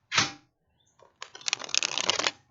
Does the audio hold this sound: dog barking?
no